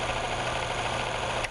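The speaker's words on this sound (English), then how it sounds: "we'll simulate a cold start on an engine by removing the oil supply" A motor runs without its oil supply, giving a steady, dense mechanical drone with a faint knocking texture close by. It holds even throughout, then a brief click sounds just before the end.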